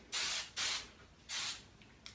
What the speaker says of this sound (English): So I spray it